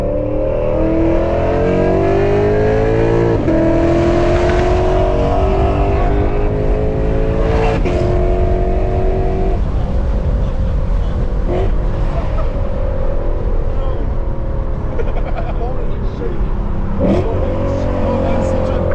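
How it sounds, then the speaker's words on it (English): A Lexus RC F with FBO mods and over 500 hp roars loudly on backroads, its engine tone climbing through revs and dropping sharply at several gear changes and downshifts, sustained and close throughout. "Oh, that is such a impressive fucking downshift."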